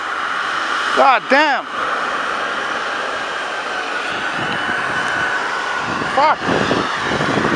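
British Airways airliner at Montreal airport at night, a broad steady jet roar heard from a distance that fills the whole stretch, with a man swearing loudly over it now and then.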